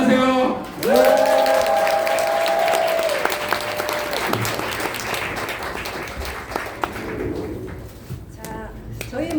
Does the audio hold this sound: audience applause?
yes